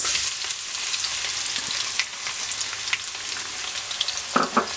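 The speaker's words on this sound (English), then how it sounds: "I finely chopped them, and I'm going to fry that before I add the rest of the ingredients." Finely chopped green chili, garlic, shallots and ginger frying in oil for a Sri Lankan pork fry, an even close sizzle with a few scraping stirs and a couple of clinks near the end.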